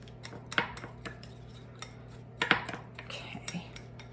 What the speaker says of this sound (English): So we're going to just mix this up